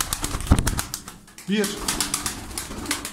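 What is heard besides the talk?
tumbler pigeons cooing and flapping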